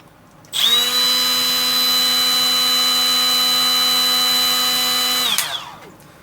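Milwaukee M12 FUEL quarter-inch right angle die grinder, model 3485-20, spinning freely at speed 3 of about 15,000 RPM. It gives a loud, steady high-pitched whine for roughly five seconds, then winds down after switching off.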